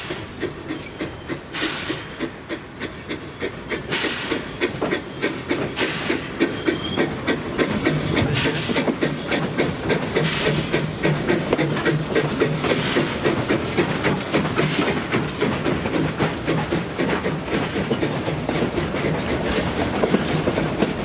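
Steam locomotive Number 15 idling at the Le Crotoy engine shed on the narrow-gauge Baie de Somme line, a steady loud hiss of steam with rhythmic mechanical clanking and chuffing, close by and continuous, no talk.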